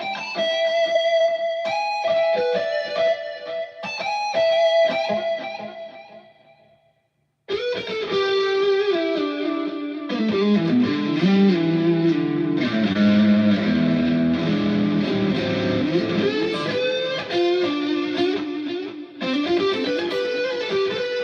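Electric guitar with heavy distortion plays blues-style licks, a sustained melodic line, then a short pause before a denser, louder stretch of bends and chordal phrases continues to the end.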